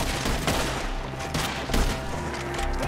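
Rapid gunfire rattles through a Red Dead Redemption 2 shootout against enemies up in the trees, a dense, loud volley of overlapping shots with sharp cracks throughout and no speech.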